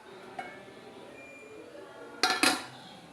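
A metal lid is set onto a pot of mandi cooking over coals, giving two quick close clanks near the end after a faint earlier tap.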